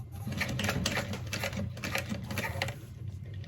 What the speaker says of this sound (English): Okay, and we'll start sewing